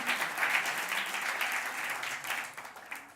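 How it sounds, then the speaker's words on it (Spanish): Church congregation applauding during a sermon, a soft, distant wash of many hands clapping continuously before fading slightly at the end. "Dele un lindo aplauso al Señor."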